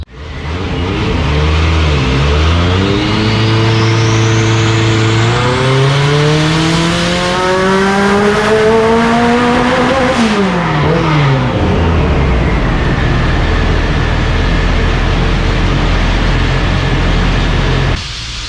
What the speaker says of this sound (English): Actually dynoing it today because I want it sorted out.